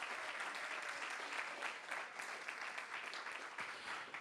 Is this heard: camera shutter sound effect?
no